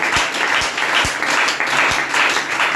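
A church congregation bursts into sustained applause at a Sunday service, a dense, steady clatter of many hands filling the room with no voices standing out.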